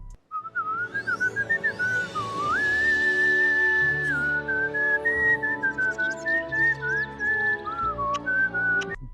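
A cartoon character from Teen Titans Go! whistles a continuous, wavering melody for about nine seconds, the tune loud and close with pitch slides up and down over a soft musical bed.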